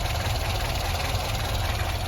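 A petrol car with a Tempra engine idles nearby, a steady, even mechanical hum throughout with no talk.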